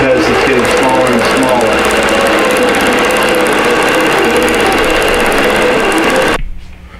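An embroidery sewing machine stitches a row of a winter wonderland tree skirt, running loud and close with a rapid, even mechanical chatter that stops abruptly near the end, with a voice talking over it.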